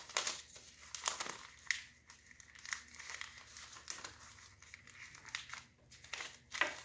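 Paper or similar sheet material for a planting vessel is folded and creased, giving repeated close, crisp crinkling and rustling bursts in an uneven rhythm with no talk.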